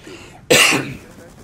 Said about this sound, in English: I want to apologize for the cough.